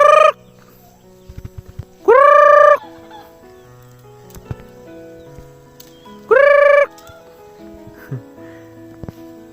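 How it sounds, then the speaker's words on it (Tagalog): Poultry on a farm on Burias Island, with loud crowing calls bursting out three times at intervals, separated by quieter clucks, rustling and scattered knocks in between. "At may mga manok tayo doon."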